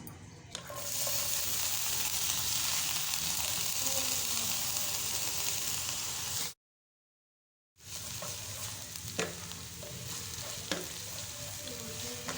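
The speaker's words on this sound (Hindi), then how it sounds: "इसको हम अच्छे से चॉप करेंगे बारीक सा और इसको जो है इस घी में फ्राई करेंगे" Finely chopped mini onion sizzling in hot ghee in a pan, a steady bright frying hiss with occasional stirring clinks, close and continuous, broken by a brief silent gap.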